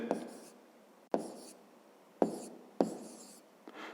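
Pen strokes scratch across paper while a maths solution is written out by hand, with four distinct bursts of scribbling separated by short pauses, close and fairly quiet.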